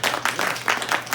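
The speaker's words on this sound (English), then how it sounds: "Can we clap for that one?" At a city's state of the city address, an audience claps briefly in a quick, rhythmic burst of hand claps that sounds fairly close and steady.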